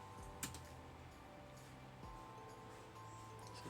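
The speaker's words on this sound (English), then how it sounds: "So we're gonna type in the command line Helm" Keys on a computer keyboard tapped in short bursts as a command line instruction is entered, quiet and close, with a low steady hum underneath.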